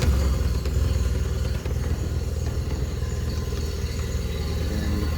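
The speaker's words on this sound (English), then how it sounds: "Anytime the engine starts, you want to check to make sure there's a stream of water coming out the back." A Yamaha F25 outboard motor starts and keeps running, a steady loud low-pitched engine drone with a slight clattering texture that holds evenly and close throughout.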